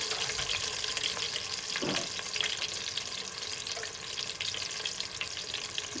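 Boiled eggs frying in a pan, heard as a dense, steady sizzle and crackle at close range with a faint scrape now and then.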